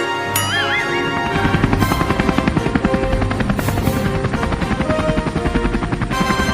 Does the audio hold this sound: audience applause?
no